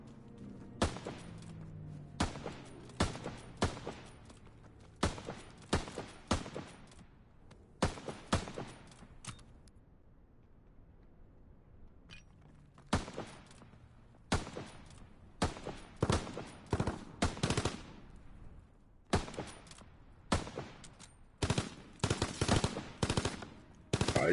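Bursts of automatic gunfire in a shooter video game, repeated rapid volleys separated by short quiet gaps, growing denser and more frequent toward the end, with no talk.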